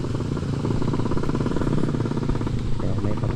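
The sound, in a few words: Skylab motorcycle taxi approaching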